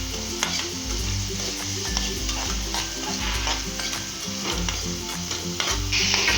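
Salted tomatoes sautéing in a pan: a continuous close sizzle with repeated stirring and scraping strokes, alongside a low rhythmic background beat.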